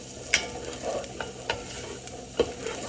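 Onions are pushed around a hot pan while they fry, giving a steady soft sizzle broken by several sharp scraping clicks of the spoon against the pan, close and with no talking.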